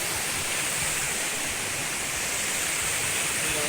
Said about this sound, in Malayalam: ചെറിയൊരു വെള്ളച്ചാട്ടം